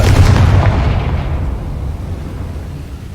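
A booming blast from the Confringo fire spell in Hogwarts Legacy, loud at the onset and then rolling off into a long, fading rumble.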